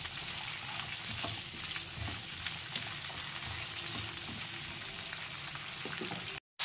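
Ridge gourd, eggplant and pumpkin fry in a pan, giving a steady close sizzle with scattered stirring scrapes throughout, then a brief dropout near the end.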